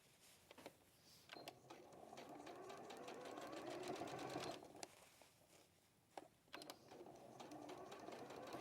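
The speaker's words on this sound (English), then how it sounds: "sewing the outer to the lining all the way around the edge of the hood" A sewing machine stitching the outer fabric to the lining around the edge of a hood, running in steady whirring bursts with rhythmic needle clatter, pausing briefly between runs, fairly faint and close.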